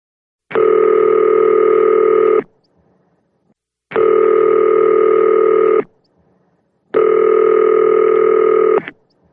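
Telephone ringing on a call to a talk show's voicemail line: three loud, even two-second rings separated by short silent gaps, clear and close, with no talking.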